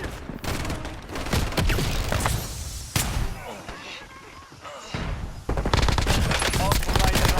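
Video game gunfire in a loaded resurgence battle royale match, with dense bursts of automatic fire and scattered shots crackling through most of the stretch, briefly thinning in the middle before loud volleys resume, under radio chatter and callouts.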